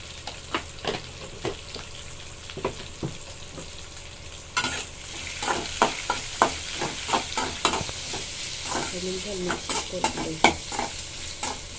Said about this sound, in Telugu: ఐదు నిమిషాలు మిక్స్ చేసుకోవాలి